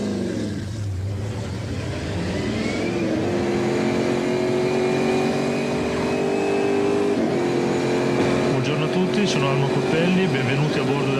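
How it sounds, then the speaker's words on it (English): A Callaway Chevrolet Corvette GT2 race car on a qualifying lap at Monza in the 1995 BPR Global GT Series, heard onboard. Its engine drones loudly and rises in pitch through the gears while a voice talks over it. "the Milanese took us on his qualifying lap aboard his GT2 division Chevrolet"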